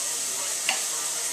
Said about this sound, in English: Hear it sizzling? Sounds great.